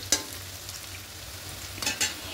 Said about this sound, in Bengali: এবার এটা দিয়ে একটু হালকা করে ভেজে নেব।